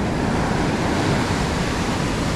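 Ocean waves break and wash along the shore where someone is fishing, a continuous close rushing roar with no pauses and no voices.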